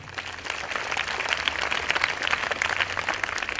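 An audience at a school's 119th anniversary celebration claps steadily and densely for several seconds, a close, even wash of applause with no voices.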